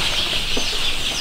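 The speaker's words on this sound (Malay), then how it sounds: "Oh, ayam sihat, ayam kampung ya." Village chickens in a ventilated coop, faint short clucks and a brief flutter over a constant hissing background, with no talking.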